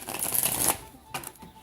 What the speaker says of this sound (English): You used to shuffle real good, Kim.